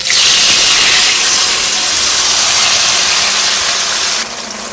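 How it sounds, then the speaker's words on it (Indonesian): Ground chili spice paste sizzles in three tablespoons of oil over low heat, a loud, steady, close hiss that holds evenly and then drops to a quieter level near the end. "Kita tumis bumbu halusnya dengan 3 sendok makan minyak."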